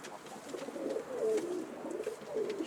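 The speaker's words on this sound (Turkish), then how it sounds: "Ali Bey'in kümesini açtık." Pigeons in an opened coop coo softly and continuously at close range, a low warbling murmur with no voices.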